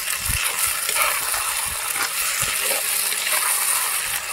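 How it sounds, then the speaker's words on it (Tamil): Onions and tomatoes sauté in a pan with curry leaves for a Kerala-style Nadan chicken curry, giving a steady frying sizzle with occasional stirring scrapes and clicks close by, no voices. "இதுலேயே நம்ம இப்போ வெங்காயம் தக்காளியெல்லாம் போட்டு வதக்கிக்கலாம்"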